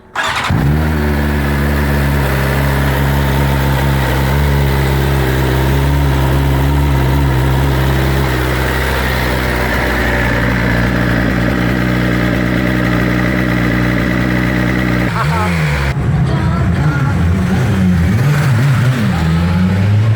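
A 2020 BMW S1000RR motorcycle engine idles steadily with a deep, loud rumble while warming up, then revs up and fluctuates near the end before settling back.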